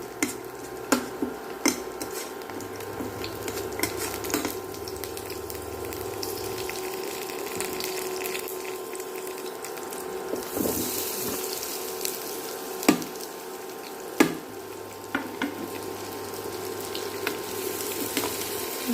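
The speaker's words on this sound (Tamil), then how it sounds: "இனிமேல் நம்ம விரவி வச்சுருக்க சிறுகிழங்கை போடணும்" Siru kizhangu tubers fry in a pan with onions and curry leaves, a steady sizzle running throughout with occasional sharp clinks and scrapes of stirring at the pan.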